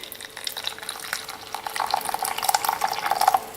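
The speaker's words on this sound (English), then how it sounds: "when I pour in the boiling water I can have exactly 125 milliliters" Boiling water is poured from a kettle onto cubes of orange jelly, a close, continuous splashing trickle that rises slightly in pitch as the jug fills.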